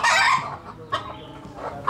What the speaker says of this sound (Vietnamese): Đây nguyên một cái chuồng gà.